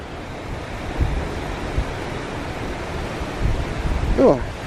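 Strong wind blowing across an open beach with surf, a steady broadband roar and buffeting on the microphone, with a few low thumps and a faint brief voice near the end.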